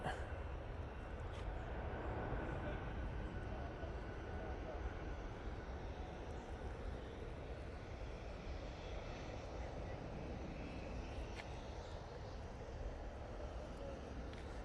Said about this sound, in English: Swiss A220, going back off to Zurich.